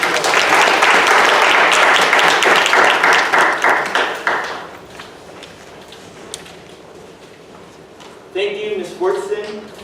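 Loud applause from a ceremony audience fills the first four seconds, then fades into scattered claps and room noise before a voice begins speaking near the end.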